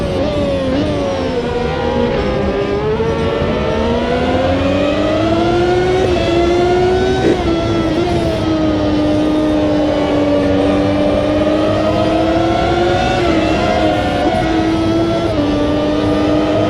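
Race car engines at Monza in the Automobilista 2 racing game, a loud, continuous, close engine note that rises and dips as the car accelerates and shifts, with other cars audible around it.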